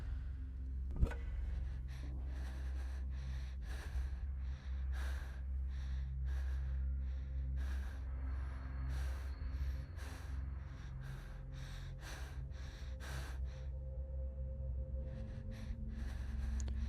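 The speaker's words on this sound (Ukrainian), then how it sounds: "Ще коли вдихає, наче якась дитина, що дихає." Creature in a horror video game breathing like a child, repeated short gasping and snorting breaths in an irregular rhythm over a low, steady game drone, fairly faint throughout.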